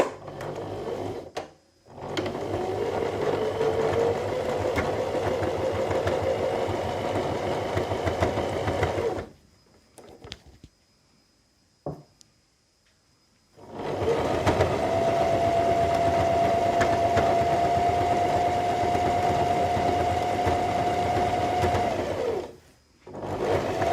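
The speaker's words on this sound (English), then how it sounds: "pop it under my sewing machine foot. This is just a straight stitch." A sewing machine runs a straight stitch on a fabric cat-snug craft project in two long, steady bursts of close, even whirring, separated by a quiet pause.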